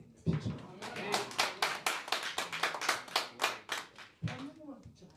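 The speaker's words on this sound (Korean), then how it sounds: "다시 한번 박수 칠 준비가 되겠습니다" Audience at a Korean church-affiliated policy forum clapping together in a steady, rhythmic beat of about a dozen even claps, with a voice speaking at the start and again as the clapping breaks off near the end.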